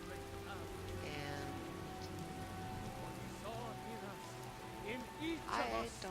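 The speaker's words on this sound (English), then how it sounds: "it seems like we've been out in the rain since we started this adventure" Steady rain falls in Skyrim as a constant soft hiss under the game's background music, with melodic voice-like tones drifting over it.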